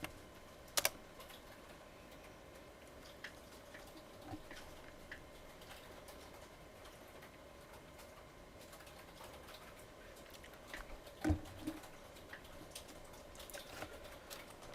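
Code is typed on a computer keyboard in a quiet room, with sparse, soft key clicks spread over the span. A couple of sharper clacks stand out near the start and near the end, and no one speaks.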